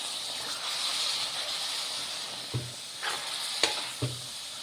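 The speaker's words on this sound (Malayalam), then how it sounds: "കറി ആയതുകൊണ്ട് കുറച്ച് വെള്ളം ഒഴിക്കാം കേട്ടോ." Chicken curry sizzles steadily in a pan as water goes in, with a few sharp stirring taps and clanks cutting through the constant close frying hiss.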